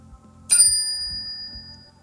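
A single bright ding of a notification bell sound effect rings out once and leaves a clear, fading ring that lasts well over a second.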